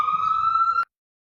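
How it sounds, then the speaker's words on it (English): An ambulance siren sounds outside as a single steady, high, piercing tone, fairly loud, lasting under a second before cutting off abruptly into silence. "Speaking of healthcare, right? Ambulance."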